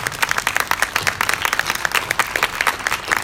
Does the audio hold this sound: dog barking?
no